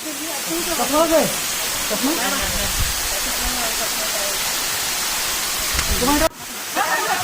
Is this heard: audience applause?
no